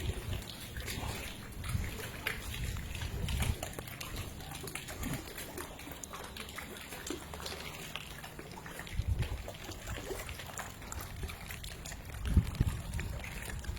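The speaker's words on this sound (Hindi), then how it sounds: "तो देखो जल आपूर्ति के लिए भी यहाँ पे पानी लगातार" Water flows continuously at a temple's water supply, a soft steady trickle and splash running beneath low outdoor ambience, with occasional louder low thumps and faint background noise.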